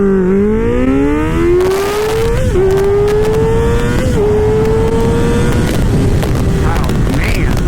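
A 2024 Kawasaki Ninja ZX-6R, with no quick shifter and no traction control, accelerates hard from 0 to 100 mph, its engine screaming up through several gears with a steady rising pitch and brief dips at each shift, loud and close, with wind rush.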